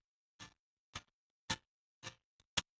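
Isolated guitar pick clicks and slappy string attacks separated out by a guitar denoise process: five sharp, dry ticks spaced about half a second apart, alone and fairly quiet.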